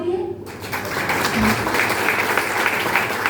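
An audience at a Jain religious discourse in Kolkata breaks into sustained applause. Many hands clap together in a dense, steady wash that starts abruptly after a brief voice and stays loud to the end.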